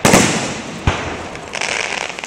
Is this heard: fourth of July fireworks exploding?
yes